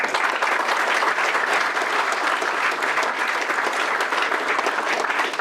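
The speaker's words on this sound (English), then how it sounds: "we really must give them a round of applause" Sustained round of applause from a seated audience at a kollel grand opening, steady and dense from start to finish, close and full with no voices over it.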